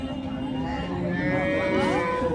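A cow lows in a long, sustained moo at a village cattle market in Chalisgaon, close and fairly loud with steady crowd murmur behind it.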